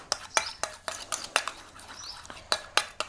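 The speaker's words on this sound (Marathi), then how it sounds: "हे अशी चमच्याने जरा फेटायची" A spoon whisks a mixture of Vaseline and lemon in a small bowl, giving a string of sharp, close metallic clinks at an uneven rhythm with no talking.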